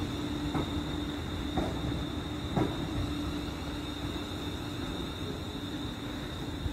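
A nine-carriage semi-express train at Gourock station, a steady rumbling drone with a constant high whine and a few soft rhythmic clunks of wheels over rail joints, moderately close and unbroken throughout.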